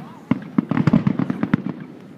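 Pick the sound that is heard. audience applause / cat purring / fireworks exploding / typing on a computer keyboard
fireworks exploding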